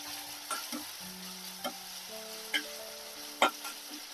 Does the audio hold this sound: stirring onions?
yes